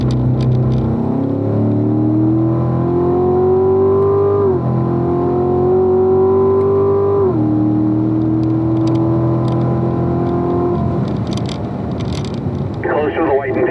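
A race car lapping a circuit during a track session: a loud, steady engine drone whose pitch climbs gradually, then drops abruptly at several gear changes before easing off.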